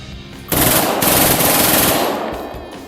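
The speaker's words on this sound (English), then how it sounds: "the CZ Scorpion Evo 3 is one of the most modern and scariest submachine guns in terms of efficiency" A CZ Scorpion Evo 3 submachine gun, a Czech-built weapon, fires a loud, dense burst of rapid shots lasting about one and a half seconds, close and harsh, then trailing off.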